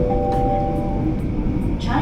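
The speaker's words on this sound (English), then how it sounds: "And the metro just" A metro train pulls into a Singapore station, giving a steady loud rumble with whining tonal motor notes and brief clinks, alongside speech-like sounds.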